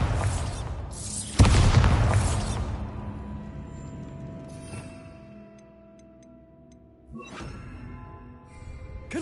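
Bombarda blasting spell in Hogwarts Legacy, one loud, sudden explosion that rumbles and fades over several seconds, then a second weaker burst near the end.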